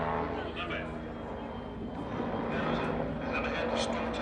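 An airplane drones steadily at an airshow, a distant, fairly faint engine hum under a commentator talking.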